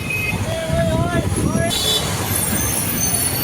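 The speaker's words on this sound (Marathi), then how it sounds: "तरी 8च वाजले तर एवढा ट्रॅफिक आहे बघा." Morning traffic jam at Mukai Chowk, a busy road junction, with a dense wash of engines, tyre rumble and a faint high horn toot, while a person talks throughout.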